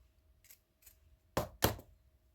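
Scissors snip a piece of hair in a pair of sharp, close cuts, preceded by two fainter snips, in a quiet room.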